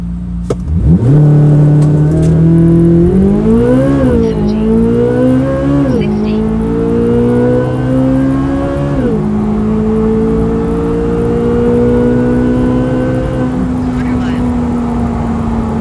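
A 2024 Chevrolet Corvette C8 Z06 with the 1LZ package accelerates hard while driving, its engine climbing through the gears in loud rising sweeps, with quick drops at each shift, heard from inside the cabin.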